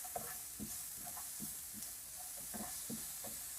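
Food being stirred and sautéed in a pan with chili flakes, black pepper and salt, a soft steady sizzle under a rhythmic scrape of a spatula every half second or so, close and quiet, no talking.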